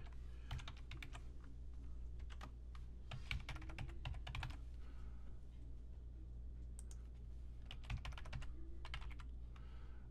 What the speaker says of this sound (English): if I can type properly.